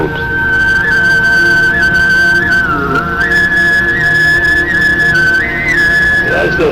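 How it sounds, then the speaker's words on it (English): A single voice sings a low droning tone while a bright, whistle-like overtone glides above it, loud and close. "there's a kind of a whistle that develops on top of the singing"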